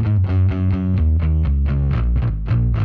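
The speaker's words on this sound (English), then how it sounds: "the gain itself is coming from the master volume, which is essentially power amp distortion" A bass guitar plays a loud, chugging riff through an amp whose master volume is cranked for power amp distortion, thick and gritty with rhythmic palm-muted notes.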